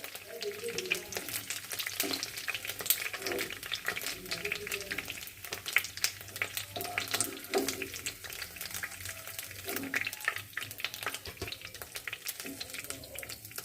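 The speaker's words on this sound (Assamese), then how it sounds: "ফুল ফ্ৰাই কৰা নাই, হাফ ফ্ৰাই কৰিছোঁ বাৰু" Pieces of fish half-frying in a kerahi, a continuous close sizzle and crackle with occasional stirring, no talk.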